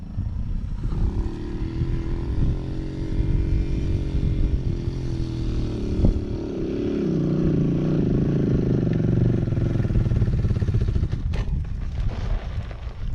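A dirt bike engine runs steadily on a trail outing with friends, a low rumbling drone that swells louder and rises in pitch midway as the rider releases the clutch, close by and continuous.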